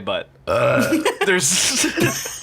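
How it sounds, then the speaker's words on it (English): A man lets out a short burp in the middle of casual conversation, with several voices talking around it. "I just fucking burp whenever I want to."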